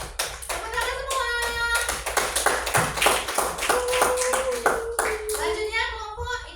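A class of children claps together in a classroom, quick close rhythmic hand claps running throughout while an adult and kids talk and call out over them.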